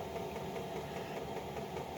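A Chinese diesel heater runs at full combustion temperature, giving a steady, low mechanical hum with a faint rattling vibration that holds constant throughout, without any talk.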